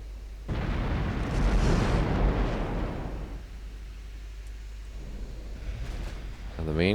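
Warship main guns firing in Ultimate Admiral Dreadnoughts, a heavy booming salvo with a long rumbling roll that fades out, then a fainter follow-up rumble, with a voice talking over part of it.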